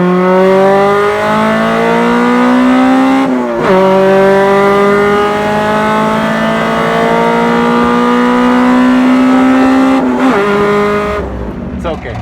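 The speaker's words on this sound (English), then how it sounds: "We're just going to do like first gear race." Manual Honda Civic and Mazda Miata accelerating hard in first gear in a side-by-side launch, with a loud engine note rising in pitch, dropping briefly at a shift around three and a half seconds, climbing again, then cutting off. Voices speak over the roar.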